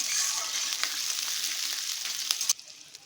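Sliced onions fry in hot oil, a bright steady sizzle with a few stirring ticks that drops away abruptly near the end.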